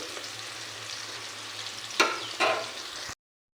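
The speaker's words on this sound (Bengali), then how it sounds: "তো একটু ভাজা হবে যতক্ষণ লাল লাল হয়" Chicken spice paste fries in a pan with a close, continuous sizzle, broken by two quick stirring scrapes a moment apart before the sound cuts off abruptly.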